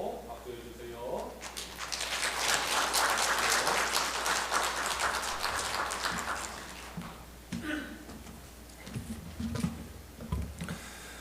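A church congregation at a Korean Methodist Sunday morning service breaks into sustained applause, a dense wash of clapping that swells for several seconds and then fades, with voices talking around it.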